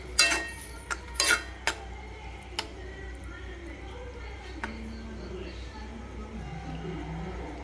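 Okra is tipped into a pan of dahi bhindi mixture and stirred, giving a few sharp metallic clinks and scrapes near the start, then softer intermittent taps over a low steady background hum.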